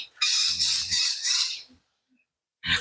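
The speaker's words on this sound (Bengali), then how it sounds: "এইখানে দেখতে পাচ্ছি পাখি লাভ বার্ড লাভ বার্ড পাখি" Short, harsh squawking calls from lovebirds nearby, two bursts separated by a brief silence.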